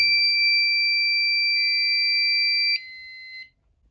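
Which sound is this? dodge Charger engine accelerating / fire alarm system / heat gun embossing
fire alarm system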